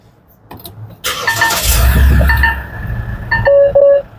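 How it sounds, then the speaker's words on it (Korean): A SsangYong Rexton Sports Khan diesel pickup engine starting from inside the cabin, a brief crank then a loud catch and settling idle, with electronic chimes and beeps from the dashboard following. "자, 이제 시동 한번 걸어볼게요."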